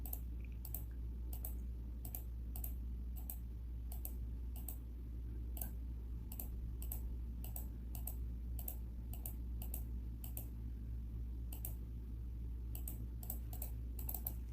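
Quiet, close computer keyboard typing while editing in Photoshop, with steady clicks of Delete and Ctrl+D shortcut keys repeating at an even rhythm over a low background hum.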